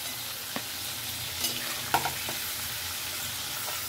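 Shivada fish pieces lightly frying in hot oil in a pan: a steady, soft sizzle runs throughout, broken by a few sharp scraping clicks from stirring. No one speaks.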